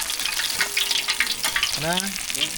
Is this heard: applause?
no